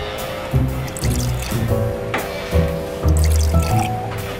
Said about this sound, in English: pour everything we got in there to finish this off